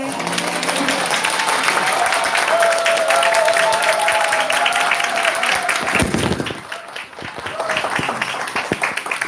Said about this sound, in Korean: 어디서 이런 박수를 받은 거예요?